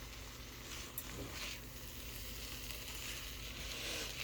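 Egg kothu masala being stirred in a frying pan gives a soft, steady sizzle with faint scraping, heard at low level with no talking.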